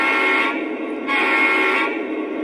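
A loud, steady model train horn blast sounds twice in quick succession, each a sustained chord-like tone with no talking.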